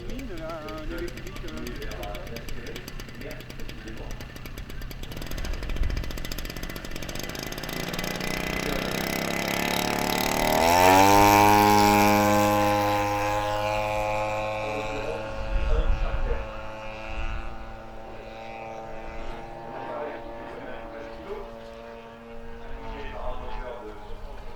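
An electric model airplane motor runs loud and close at an aeromodelling field, whining steadily then spinning up to a sharp rising pitch before settling into a sustained high buzz, with talking audible beneath at times.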